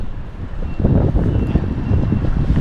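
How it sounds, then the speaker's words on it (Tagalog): Strong wind buffets the microphone in a continuous low roar, gusting louder partway through, with no voices. "medyo mahangin po ngayon"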